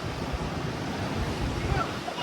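Strong surf breaks against the rocky coast at Natural Bridge, Aruba, a steady broadband roar with low surges and wind buffeting the microphone, loud and close throughout.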